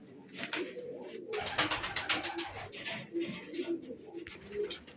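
Several pigeons coo softly and repeatedly nearby, with wing flutters and scratchy rustling mixed in.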